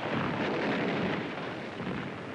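Artillery bombardment on Iwo Jima during the Pacific war, heard as a dense, continuous roar of booming blasts and rumbling, loud and close, with no talk.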